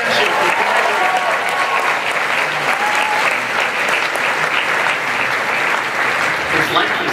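An audience at a Disney Parks panel during the 2013 D23 Expo claps in sustained, loud applause filling the whole stretch, with crowd voices mixed in.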